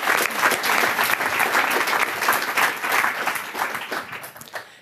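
An audience at a youth hackathon's closing event in Ulm, 2018, breaks into steady, sustained applause, loud and dense, gradually thinning toward the end.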